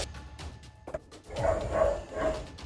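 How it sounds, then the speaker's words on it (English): Dogs barking somewhere in a neighborhood, distant and muffled, with a quiet stretch first and then a few rounds of barking building up later, heard from afar outdoors. "Some of the dogs in his neighborhood are going crazy, so he zooms in on where they're barking"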